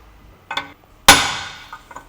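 A light metallic tap followed by one hard, ringing hammer strike on the outer race of a car wheel bearing that decays slowly, then a couple of faint taps.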